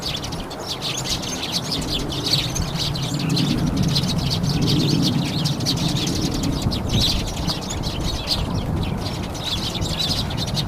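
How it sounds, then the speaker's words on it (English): A sparrow chirps in short, bright repeated tweets over a busy outdoor bird chorus, with wing flaps and rustling throughout and no talking. "Sparrow."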